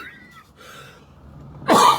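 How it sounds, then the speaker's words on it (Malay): Quiet breathing noises, then one sudden sharp cough near the end, loud and close. "Tengok dah mula batuk"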